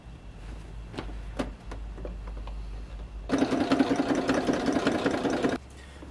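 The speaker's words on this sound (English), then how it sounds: "This is the part my sewing machine's going to hate." A home sewing machine stitches a jacket, a steady fast mechanical whir with rapid needle pulses running for a couple of seconds after quieter handling noises, then stopping abruptly.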